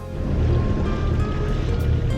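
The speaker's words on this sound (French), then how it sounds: "Il n'y a toujours pas de vent, nous sommes toujours au moteur" A sailing boat motors under engine across a calm, windless sea in the Bay of Sagone, Corsica, a steady low engine drone with soft water wash around the hull.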